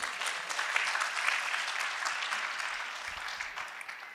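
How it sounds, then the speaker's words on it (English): Sustained applause from an audience, fairly distant and even, a continuous patter of many hands clapping with no talking. "Big round of applause for Vinod."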